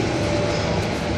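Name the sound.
double-decker train passing in Austria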